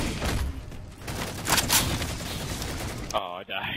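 Rapid gunfire and blasts from a Halo 4 Mini Slayer match, a dense fusillade of shots with booms that runs steadily through the clip, with players' voices mixed underneath.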